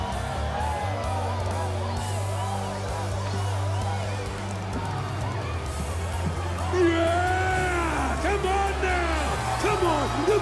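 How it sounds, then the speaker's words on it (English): Arena crowd in the Final Fantasy VII Remake Corneo Cup cheers and whoops in a busy, steady roar, with a game announcer's voice and music layered over it. "Now they're cheering us on."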